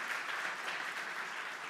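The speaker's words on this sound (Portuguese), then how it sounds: "Você pode aplaudir o Senhor por causa disso?" Applause from a church congregation, an even wash of many hands clapping, faint and distant, without a break.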